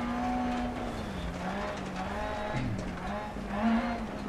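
A Ford Escort MKII rally car in the Dirt Rally racing game on a 1970s Wales stage, its engine droning steadily with rising and falling revs, fairly quiet and close, with no talk.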